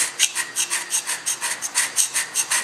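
A hand scraper drawn repeatedly across a metal machine surface, giving a close, rhythmic series of bright rasping strokes at an even pace of roughly four per second, alone without talk.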